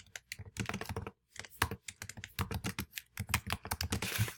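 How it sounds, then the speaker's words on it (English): Keyboard typing on a computer, a steady run of close, crisp key clicks in uneven bursts with a short pause near the start, heard alone without talk. "this is where it allows you to start typing"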